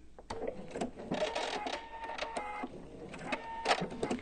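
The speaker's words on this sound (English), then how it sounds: "at this end, I definitely want to go off the edge and then backstitch" Sewing machine stitching and backstitching at the corner of a self-binding fabric placemat, a close, busy mechanical chatter of stitches with short pauses and changes of pace.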